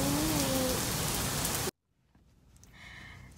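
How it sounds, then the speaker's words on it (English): Rain falling heard from a patio, a steady dense hiss of drops on surfaces that cuts off abruptly partway through, followed by a faint, quieter background. "we're just sitting on the patio watching the rain"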